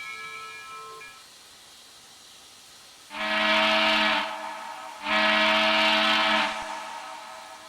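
Deep, multi-chime Western Maryland steam locomotive whistle in the Trainz simulator, sounding two long blasts of about a second and a half each, loud and close with a reverberant echo tail and a soft rumble between them.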